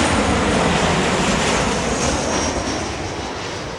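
A Ryanair airliner from Warsaw Modlin rumbles nearby as a dense, loud engine roar that eases slightly toward the end, with no voices.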